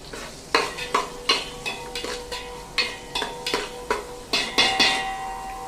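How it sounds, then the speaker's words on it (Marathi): Paneer cubes are sautéed in a pan for vegetable pulao, with a soft sizzle under a run of sharp, repeated spoon-against-pan stirring strokes at an uneven rhythm. "हे पनीर याच्यामध्ये जरा थोडंसं परतून घेऊया."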